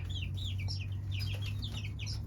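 Several chickens cluck and chirp close by on a farm, short repeated calls over a steady low hum, with no talk.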